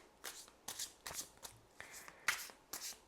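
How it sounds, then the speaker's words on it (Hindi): Tarot cards are shuffled by hand in a series of about seven quick, crisp riffling bursts with short pauses between them, close and fairly quiet. "जब तक मैं कार्ड शफल कर रही हूँ"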